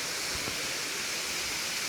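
Katiki waterfall near Araku, its water coming down like heavy rain: a continuous hissing roar of falling water, steady and close, with one faint brief thump early on and nobody speaking.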